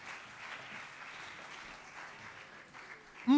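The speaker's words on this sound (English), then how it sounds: "Let's give them a round of applause," Audience applause at a gender-based violence awareness launch event in Polokwane, a steady, moderately distant round of clapping that holds evenly throughout and ends with a sudden loud burst at the very end.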